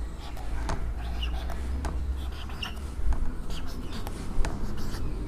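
A pen or marker writing numbers for a staircase-method fixture draw, with short scratchy strokes and taps in an irregular rhythm, close up beneath steady background hum.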